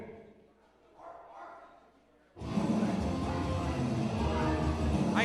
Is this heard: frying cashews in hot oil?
no